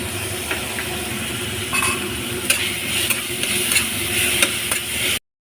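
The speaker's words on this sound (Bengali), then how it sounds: "আদা রসুনের পেস্টটা ভালো করে কষানো হয়ে গেছে" Ginger garlic paste being sautéed in a pan for a raw jackfruit curry, with a steady sizzle under repeated scraping and clinking stirring strokes, close and moderately loud.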